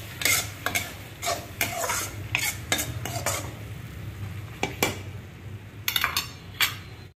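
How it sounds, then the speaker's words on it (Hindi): Onion, ginger and garlic paste frying in a pan, with a spoon scraping and stirring in repeated bursts over a low steady sizzle, close and moderately loud, with no talking. "हमारा प्याज और अदरक लहसुन का पेस्ट भून रहा है।"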